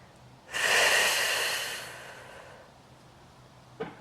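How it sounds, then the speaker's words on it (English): One long, loud breath during a reformer Pilates exercise, a breathy rush lasting over a second that slowly fades, followed by a brief soft catch of breath, close to the mic in a quiet room. "So I inhale as I bring it out. Exhale as I bring it in."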